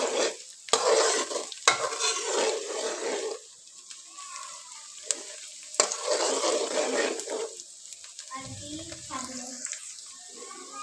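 Onions frying over a medium flame as a spoon stirs them in the pan, a close sizzle with repeated scraping and clattering strokes that dips quieter midway, no voices.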